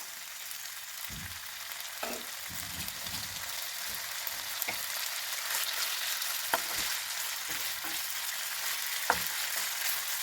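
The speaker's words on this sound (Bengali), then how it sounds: "এবার চিকেনগুলোকে আমি একটু ভাজা ভাজা করে নেব।" Unsalted chicken, cut into very small pieces for chicken pakora with cabbage, fries in a pan with a constant close sizzle, punctuated by occasional soft scrapes and taps as it is stirred.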